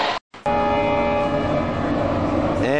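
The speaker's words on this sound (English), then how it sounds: "And here comes our train" A passenger train pulls into the busy Wudangshan station in China, a loud, continuous horn blast and rumbling rail noise close by after a brief cut, with faint background voices.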